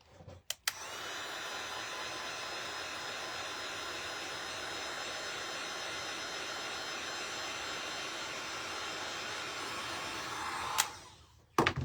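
A hair dryer runs steadily and loudly for about ten seconds while drying paint on a reindeer ornament. It switches on with a click and then shuts off near the end.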